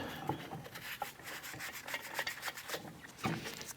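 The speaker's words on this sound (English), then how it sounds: "Go ahead and get our lug nut started here all by hand." Close, dry scraping and rubbing as a lug nut is spun by hand onto a wheel stud of a 2004-2008 Acura TL, with soft irregular metallic scuffs and no talking.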